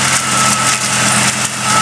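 An old Ford tractor with a twin-cylinder Kohler engine runs steadily nearby, a loud, continuous mechanical drone with rough low-frequency chugging throughout.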